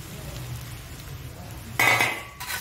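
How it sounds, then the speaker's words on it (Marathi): A spoon scrapes and clinks against a cooking pan while a mixture is stirred on a gas stove, a soft low sizzle underneath and a sharper burst of metallic scraping near the end. "छान मिक्स करून घेऊ"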